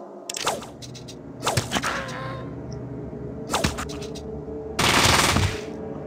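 SMG bursts in the video game Fallout, with four separate rapid bursts of gunfire spaced over several seconds and the last one longest, loud and close over a low game ambience.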